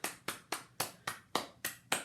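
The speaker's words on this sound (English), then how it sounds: "And let's all give ourselves a round of applause." Eight evenly spaced, crisp hand claps, close and fairly quiet, with no talk around them.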